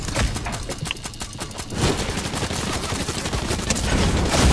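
Rapid bursts of video game gunfire in Fortnite rattle loudly and continuously at close range, with a sustained barrage building toward the end.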